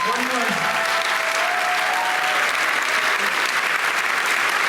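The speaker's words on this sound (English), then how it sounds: "one more round of applause for all of our alums" A theater audience gives a sustained, loud round of applause for alumni at a show celebration, dense even clapping with crowd noise and a few voices mixed in throughout.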